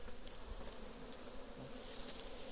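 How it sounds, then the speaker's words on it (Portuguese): A dense, steady drone of many honeybees buzzing around an opened hive in an apiary, continuous and close with no voices. "Olha, muita abelha."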